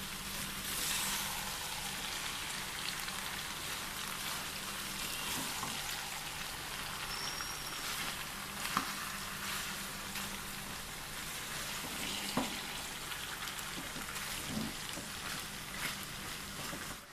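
Beef tripe frying with salt in a pan makes a constant soft, rain-like sizzle throughout, with a couple of faint clicks of stirring and no talking.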